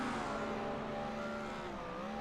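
A Cadillac IMSA GTP race car at Sebring screams near its redline, a sustained high-pitched engine wail with rising harmonic tones that holds steady at close range with no voices.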